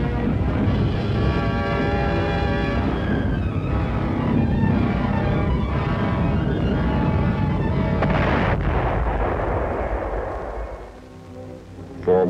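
Anti-aircraft gun batteries defending Antwerp fire at V-1 flying bombs in September 1944, a dense, rumbling barrage of booming blasts rolling together at a distance, steady and heavy before fading out near the end.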